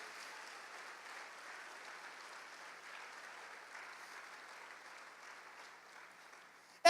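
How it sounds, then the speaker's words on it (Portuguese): A church congregation applauds during a mother-themed sermon by a pastor, a soft, distant, even wash of clapping that holds steady throughout, ending with a sudden loud knock. "Dê um aplauso a ele,"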